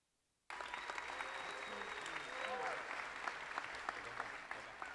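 A large audience bursts into applause at a La Salle commencement ceremony for award recipients, starting abruptly from silence and holding steady, with scattered cheers and voices woven through the clapping.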